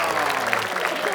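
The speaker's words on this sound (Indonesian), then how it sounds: "Tepuk tangan, tepuk tangan." Audience clapping in a steady broadband patter fills the room, with a voice talking over the start of it.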